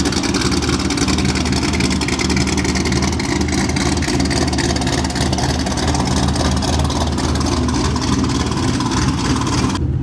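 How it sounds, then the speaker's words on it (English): A supercharged Corvette C6 idles loud and close, its choppy, lumpy engine note pulsing continuously without a break until it cuts off right at the end. "the Corvette is on, and this is what I mean about it being really loud."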